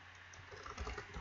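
Soft, quiet tapping on a computer keyboard, a steady patter of keystrokes heard close up against faint room hum, with no voices.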